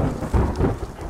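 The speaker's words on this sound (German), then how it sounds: "Jetzt regnet es auch noch." Rain and thunder in the survival game The Forest, a brief burst of dense rainfall noise with a low thunder rumble underneath.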